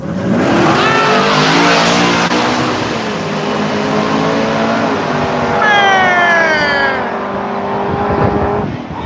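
A car revs hard and races at a street track, the engine climbing and falling in loud, near sweeping pitches that run through the whole stretch, with a second sharp rise of acceleration toward the end.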